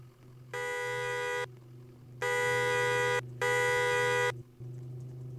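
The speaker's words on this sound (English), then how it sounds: "If this guy doesn't shut up honking" A car horn in the Roblox game Mano County blares in three long, flat blasts separated by short gaps, loud and close over a low steady hum.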